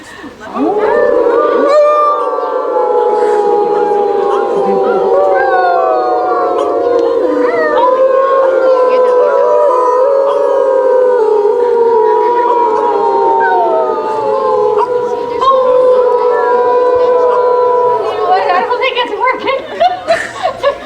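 A dog howls loudly and close for a long stretch, sustained wavering tones with brief breaks and a few yaps near the end.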